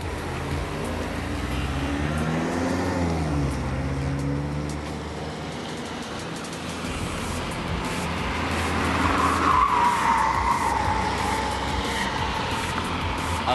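Car tires skid and squeal through a turn on a stability-control test course at about 40 km/h, a loud continuous screech under a steady engine drone, swelling near the end with no talking.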